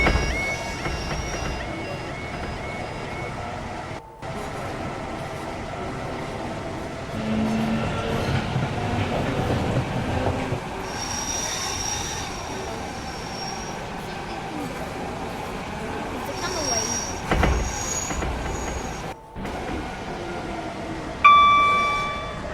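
Class 456 electric train running in the game Project Transit, a steady rumbling drive with chimes and announcement tones over it, held at fairly constant loudness with brief dropouts.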